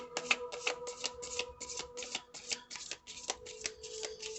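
Repeated crisp riffling bursts of tarot cards being shuffled, about a dozen quick rhythmic flurries, close and fairly quiet.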